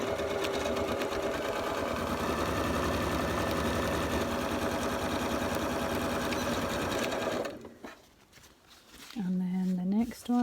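A sewing machine runs continuously as it stitches Halloween bunting, a loud steady mechanical whir close by, then stops abruptly and a voice follows.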